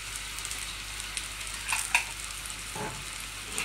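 Sizzling pork fillet sauce with Dijon mustard gets stirred in a hot pan, giving a steady frying hiss with a few soft scrapes and clinks from the spoon, with no talking.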